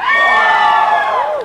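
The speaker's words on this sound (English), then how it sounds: "Scream if you're having a good time." A concert crowd at a Powerhouse Stage show screams and cheers in one loud, sustained wall of high voices and whoops that fades slightly at the end.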